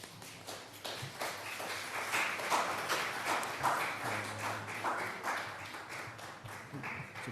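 A church congregation claps together for the children at a Lunar New Year Sunday service, producing steady, moderately loud applause that fills the hall throughout.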